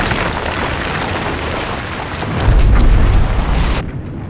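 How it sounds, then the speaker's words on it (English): Dynamite blast destroying a mine tower shaft in a film scene: a deep, loud boom swells up over a continuous rumbling roar of collapse, then cuts off abruptly into quiet. "use a stick of dynamite to destroy the tower shaft."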